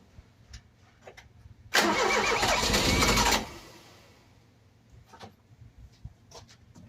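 A Ford Cortina engine cranks for about two seconds with a loud grinding whir, then stops without catching; faint clicks and knocks follow in the quiet.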